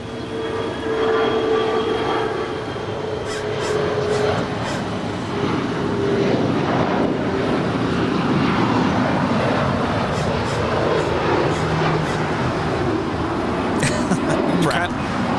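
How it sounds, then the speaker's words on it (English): A Cathay Pacific Cargo Boeing 747 departing LAX rumbles as a broad, sustained jet roar, moderately loud and steady, with faint voices mixed in. "Cathay Pacific Cargo 747 departure."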